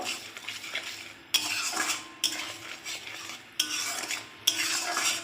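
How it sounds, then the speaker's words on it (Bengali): Spices being sautéed in a pan with potol and poppy seed paste, with a metal spoon scraping and stirring in several distinct bursts over a soft background sizzle, close and clear, no voices. "দিয়ে আমি একটু কষতে থাকবো"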